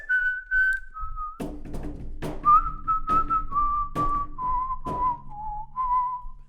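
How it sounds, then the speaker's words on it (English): Someone whistles a clear, wavering melody close by, a few soft thumps and knocks sounding beneath the tune. "and now I could whistle it"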